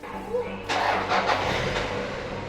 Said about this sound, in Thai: เรา ก็จะมาสตาร์ทเครื่องยนต์นะครับผม